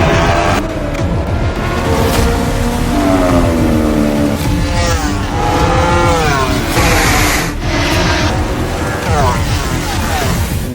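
A Kawasaki ZX10R motorcycle rides on the Indian MotoGP race track, the engine revving loud and close with rising and falling pitch through gear changes, all under heavy wind rush.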